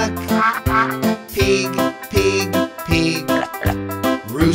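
A rhythmic run of nasal duck quacks, repeated several times in quick succession, loud and close, with no talking.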